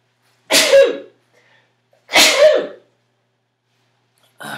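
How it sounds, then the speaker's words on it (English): Two loud, close sneezes roughly a second and a half apart with silence between them, from a host during a live Q&A stream; another short sound begins right at the end. "I think that's, like, the first time I've sneezed during a live event."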